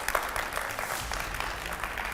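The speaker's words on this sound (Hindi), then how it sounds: "तालियों से स्वागत करिए दाती महाराज का।" Studio audience applause greeting a guest on a Hindi astrology television show, a steady wash of clapping filling the short stretch with no voices over it.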